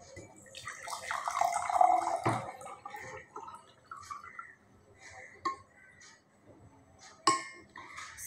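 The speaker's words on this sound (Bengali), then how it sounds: "সো ফার্স্টে পানি দিয়ে দিচ্ছি।" Water poured into a container during a small home experiment, giving a close gurgling splash for a couple of seconds, followed by scattered clinks and soft handling sounds.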